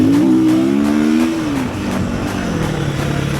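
A motorcycle on a rally road, revving close and loud with a rising then falling engine pitch before settling into a steady drone.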